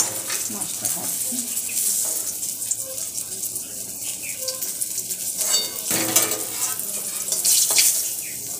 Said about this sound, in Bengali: মাছটা ভাজছি।